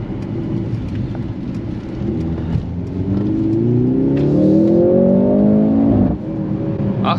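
A 2023 Mercedes-AMG C43 sedan accelerates hard with its engine note rising steadily through the revs. The loud, sustained surge climbs and then drops sharply at a shift, heard from inside the car.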